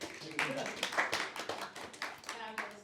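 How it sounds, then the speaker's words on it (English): An audience at a public speaking and leadership talk gives a round of applause, scattered claps in an uneven rhythm from a modest room, with voices mixed in. "give yourselves a round of applause"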